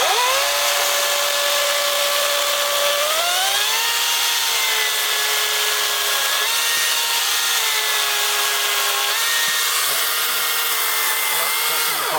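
A 40V Wild Badger Power cordless chainsaw runs continuously, its high electric motor whine stepping up and down in pitch as it loads and frees, loud and close with no talking.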